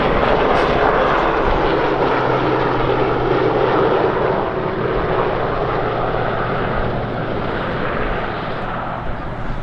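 A Sea King helicopter's loud, continuous engine roar and rotor drone at an air festival, close and steady throughout, fading only slightly toward the end.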